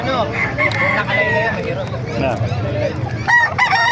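Several roosters crow repeatedly at a busy poultry market in Bocaue, Bulacan, loud overlapping calls with some clucking, while someone talks over them.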